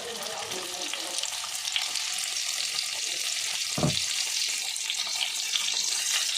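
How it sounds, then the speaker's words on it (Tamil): Eggplant sautéing in a little oil in a pan gives a steady broadband sizzle throughout, with a brief louder clatter or stir near the middle. "இப்போ இதில் நம்ம கொஞ்சமாக எண்ணெய் ஊற்றி இந்த கத்திரிக்காய் ஃபுல்லாக நல்லா வதக்கி எடுத்துடலாம்."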